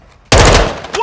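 Gunfire in Call of Duty: Modern Warfare II Warzone 2.0 DMZ, a sudden loud burst of rapid automatic shots after a brief quiet moment, close and continuous to the end.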